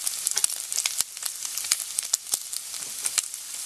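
Pork sizzling in oil in a cooking pan, a dense crackle of sharp pops and spatters over a steady hiss, close and fairly loud.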